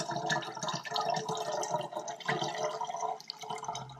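Cold brew coffee drips and trickles steadily through a filter into a jar, a close, continuous wet patter with small splashes and no talking.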